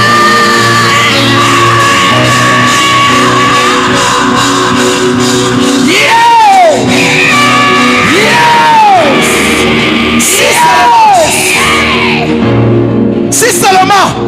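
A worship congregation at a Gabonese Christian night prayer vigil shouts and cheers loudly in praise, with voices rising in rising-and-falling whoops over sustained music, continuous and close throughout.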